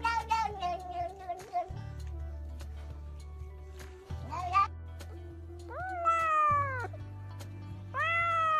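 A cat meows repeatedly at close range in a home, several drawn-out rising and falling cries, with people talking between and around the meows.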